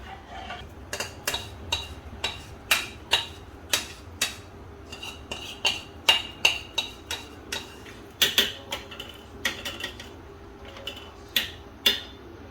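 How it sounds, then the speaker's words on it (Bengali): A spoon stirring rice into thickened milk in a pot for payesh, giving a run of sharp metallic clinks and scrapes at an uneven steady pace, close and clear with no speech. "এবার আমি চালটা দিয়েছি, এবার আমি চালটাকে ঘন ঘন নাড়বো।"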